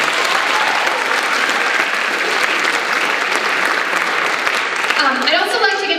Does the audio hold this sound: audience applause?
yes